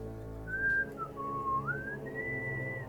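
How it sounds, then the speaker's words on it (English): A single clear whistled melody drifts through a temple's halls, a long sliding tone rising and falling over a steady low ambient hum, with no voices. "you can hear a whistling"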